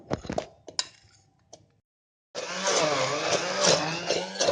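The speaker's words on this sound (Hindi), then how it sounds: "अब इसको हम हैंड ब्लेंडर से ब्लेंड करेंगे।" A hand blender purées mango with a harsh, steady motorized whir that starts after a brief silence, following a few clinks and knocks, and runs loudly and continuously to the end.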